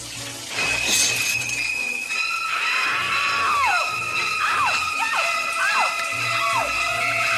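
From the shower scene of Alfred Hitchcock's classic horror film Psycho, a loud wavering scream rises in repeated gliding wails over a steady hiss of running shower water.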